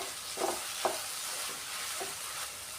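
A spoon scrapes through a mixture of boiled soya chunks and sautéed onions in a pan, with a few soft stirring strokes over a faint background hiss and no speech.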